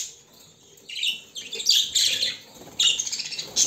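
Caged show birds chirp and squawk close up after males are placed among females, a busy overlapping stream of high calls that grows louder and denser midway.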